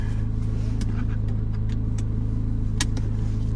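A 2025 Corvette Z06 engine hums at a steady, loud idle close by, with a few faint clicks over the constant rumble and no voices.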